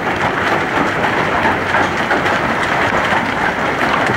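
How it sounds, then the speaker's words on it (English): Big hailstones batter the ground in a fierce Nebraska hailstorm, producing a close, unbroken, loud drumming clatter that holds steady throughout. "is an angry hailstorm."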